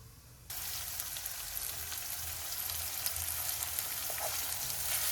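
Urad dal and chana dal hit hot oil for a dal tadka and sizzle hard, a sudden loud frying hiss that starts abruptly and stays steady and close, with faint stirring underneath.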